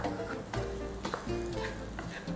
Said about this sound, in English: you just want to fry these on a really low temperature. It's called sweating.